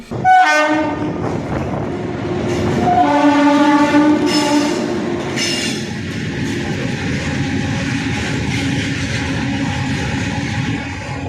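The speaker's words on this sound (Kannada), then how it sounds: "ನಲವತ್ತೊಂಬತ್ತು ದೊಡ್ಡ ಬೋಗಿಗಳನ್ನು ಹೊತ್ತ ರೈಲು ಚಿಕ್ಕಬಳ್ಳಾಪುರ ಮಾರ್ಗವಾಗಿ ಸಂಚಾರ ನಡೆಸಿದ್ದು" A long goods train of 49 large wagons on a trial run along the Chikkaballapur line sounds its horn in several loud blasts, then rolls past with a steady rumble and clatter of wagons.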